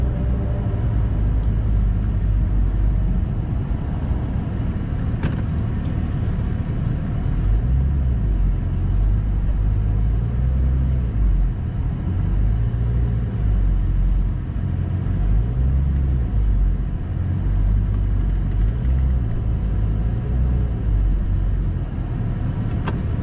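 A Porsche 991.2 GT3 laps the Val de Vienne circuit, its engine a loud, continuous roar heard close up that rises and falls in pitch through repeated gear changes and throttle swells.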